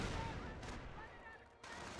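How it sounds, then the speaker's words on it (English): Light machine gun fire in the World War II strategy game Company of Heroes rattles amid a thick wash of battlefield noise, with a brief lull before the firing picks up again. "Light MG."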